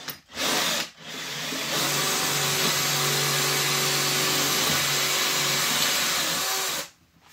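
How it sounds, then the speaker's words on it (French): Power drill boring a hole with a larger bit while fitting a kitchen into a converted bus, a steady loud whine held for several seconds after two short bursts, then stopping. "Mais perce de l'autre côté maintenant, avec un foret plus grand."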